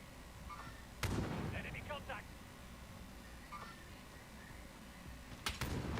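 Shooter video game gunfire heard as two sharp, booming shots, one early and one near the end, over steady background noise and faint game sounds, with people talking throughout.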